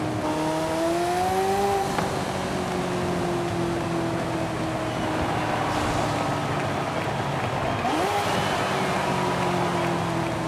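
Ferrari F40 Competizione engine in the racing game Forza Horizon 5: a loud, continuous engine howl that climbs in pitch, drops on a gear shift, and then climbs again through repeated revving.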